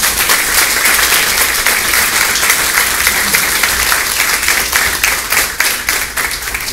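A church audience applauds Miriam and the pastor, loud, sustained clapping from a large crowd, close and continuous before easing slightly at the end.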